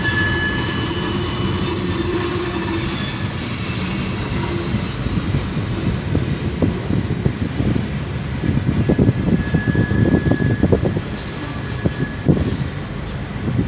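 A long CSX freight train with six engines and refrigerated cars rolls past close by downtown, a steady rumble of wheels with sustained metallic squealing and occasional clanks.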